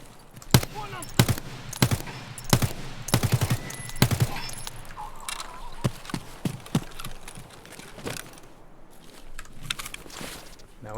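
Bursts of automatic machine gun fire in Escape from Tarkov, a series of sharp, loud shots in uneven clusters, with softer scattered cracks and shuffling movement between them.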